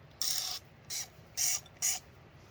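A trigger spray bottle filled with a dish soap solution fires four close, sharp hissing bursts, with short pauses of uneven length between them.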